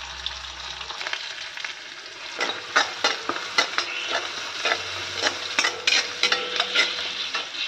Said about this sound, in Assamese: সেইখিনি ধুনীয়াকৈ ভাজিম এতিয়া মই।